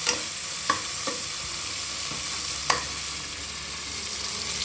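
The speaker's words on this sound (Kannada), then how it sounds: "ರೋಸ್ಟ್ ಆಗಲಿ ಟೊಮೊಟೊ ಚೆನ್ನಾಗಿ" Chopped tomatoes fry in hot oil in a pan for nati style mutton biryani, a soft continuous sizzle broken by a few sharp scrapes and clinks of a stirring spoon, with no voices.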